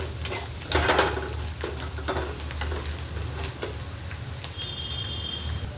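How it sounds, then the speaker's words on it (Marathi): Onion and garlic sautéing in oil with curry leaves in a pan, a steady close sizzle broken by several scraping stirs of a spoon and a few metallic clinks. "लसूण आणि कांदा बघा आपला छान असा परतला गेलेला आहे"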